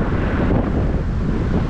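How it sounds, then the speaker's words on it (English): Strong wind buffets the microphone in a constant low roar on a city street in Changchun, China, with no voices present. "A little windy today"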